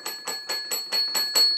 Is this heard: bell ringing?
yes